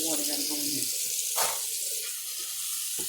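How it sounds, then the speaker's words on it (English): Water running from a tap into a pot being filled for a shrimp, corn, sausage and crab boil, a steady splashing rush that dominates the clip while a person talks over it. "Lot of water gotta go in there."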